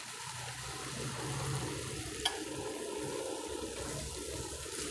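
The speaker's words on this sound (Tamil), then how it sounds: "இப்போ நாம் இதில் தண்ணி சேர்த்துக்கலாங்க." Water pours steadily into a pan of cooking broad beans with a continuous splashing, gurgling rush, fairly close, with one small clink midway and no talking.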